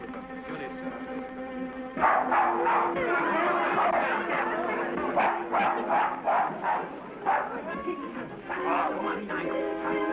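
A dog in a casino scene from a film barks in a series of sharp, repeated bursts over a murmur of crowd chatter and background hum.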